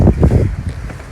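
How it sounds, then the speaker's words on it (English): Strong outdoor wind buffets the microphone in loud, low rumbling gusts, strongest in the first half second and then settling into a steadier roar, with no voices. "God, it's so windy here, all that stuff blowing around."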